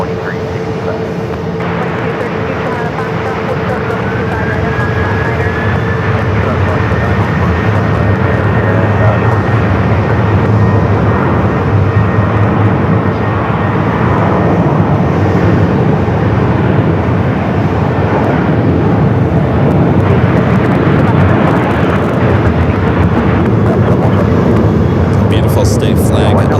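An American Airlines jet takes off from runway 25 right at Phoenix Sky Harbor, a broad, loud engine roar building and holding steadily, with a rising whine, while air traffic radio chatter plays over it.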